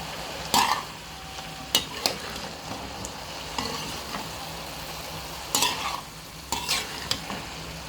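Capsicum, tomatoes and spring onions stir-fried in a pan for keto-style Chinese noodles: a steady close sizzle with sharp scraping stirs of the spatula recurring every second or so, no talking.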